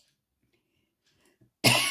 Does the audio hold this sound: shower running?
no